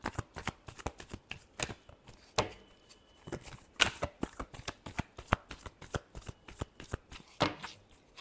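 Tarot cards shuffled by hand in a reading, a quick irregular series of sharp papery slaps and riffles, close and clear with no voice over them.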